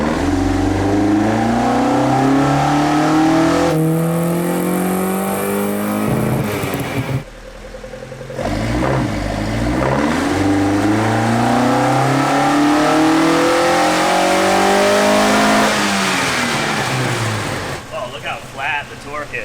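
Alfa GTV engine revving on a dyno, loud and close, climbing through repeated long pulls with rising pitch, then dropping back between runs, with talk partly under the engine.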